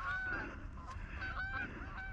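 Several geese honk repeatedly at a distance during a duck and goose hunt, their calls overlapping against a low, steady background rumble.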